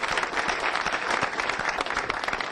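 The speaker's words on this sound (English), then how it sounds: "I think he deserves another round of applause." Applause at a Virginia Beach mayoral fundraiser for a mayor: a dense, steady clatter of many hands clapping at close range, filling the whole moment without speech.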